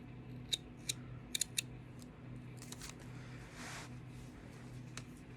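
Scissors snipping through knitted yarn stitches: a handful of crisp, close, separate cuts, a couple in quick pairs, against a quiet room hum.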